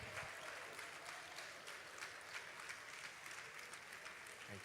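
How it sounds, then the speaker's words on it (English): Audience clapping at an association's annual general meeting, a quiet, steady wash of applause from a room that continues evenly throughout, with faint murmuring underneath. "Please keep clapping until she gets here."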